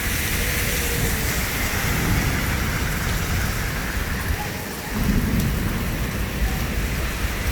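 Heavy rain pours steadily during a thunderstorm at a house in Lat Phrao, with a deep roll of thunder rumbling under the constant downpour midway through.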